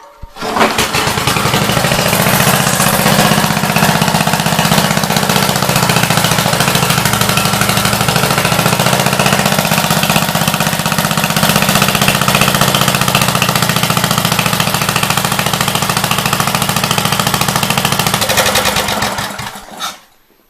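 A small engine with a choke runs steadily and loudly at close range for almost the whole stretch, with an even droning hum that cuts off abruptly at the end.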